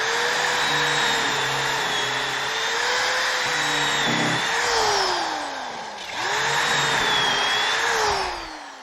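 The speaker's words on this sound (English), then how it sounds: "Now we'll join these pieces together using pocket hole screws." A power drill drives pocket hole screws into oak cross braces, a loud steady whine that dips and rises in pitch as each screw seats, running almost continuously with a brief pause.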